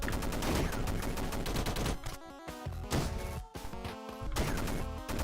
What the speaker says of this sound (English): Machine gun. This could be fun.